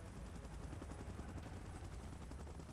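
Rapid rhythmic thudding of a helicopter in a Kong vs Godzilla fight scene, a dense, pulsing rotor chop that holds steady and fairly close for the whole stretch, with no speech.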